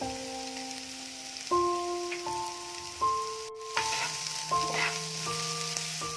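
Drumstick leaves sauté in a pan with turmeric and chili powder, giving a steady soft sizzle beneath sustained background music tones, with a few louder stirring bumps.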